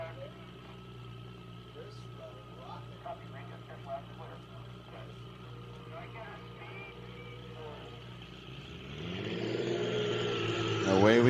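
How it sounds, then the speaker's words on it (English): A Ford race car with a turbocharged Toyota six-cylinder idles in the staging lane at a dry-lakebed land speed event, then revs loudly and pulls away near the end, with talk over the engine. "can you hear that turbo?"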